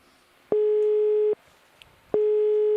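Two steady tone bursts of a telephone busy signal sound after a teleconference line drops during a deep-sea dive broadcast. Each beep lasts nearly a second with a pause between, loud and clear, with no talking.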